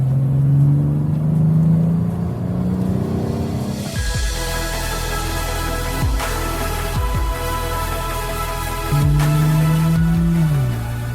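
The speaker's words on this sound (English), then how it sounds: "put it not just in Sport, but in Sport Plus, and then the engine starts to really sing" A BMW 840i Gran Coupé engine in Sport Plus mode revs up and settles, a steady loud drone with rising and falling pitch, throttle blips and a deep rumble, with no one speaking.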